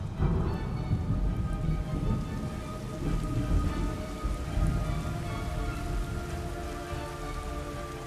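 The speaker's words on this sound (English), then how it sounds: "It's raining blood." Steady, dense rain in Metal Gear Solid Snake Eater pours throughout with a low rumble underneath, a continuous wash of noise with no voices.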